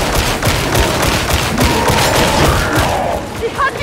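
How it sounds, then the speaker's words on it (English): Heavy weapons fire rattles through a battle in Warhammer 40,000: Darktide, a dense, continuous fusillade of rapid shots and thuds under shouting voices, ending with a brief electronic chirp. "Oh, you hear some heavy ammo, guy."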